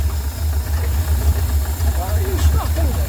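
An engine idling steadily with a low, even rumble and faint knocking, close by, with someone talking over it.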